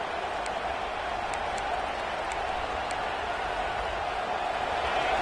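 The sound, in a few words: stadium crowd roaring in a college football video game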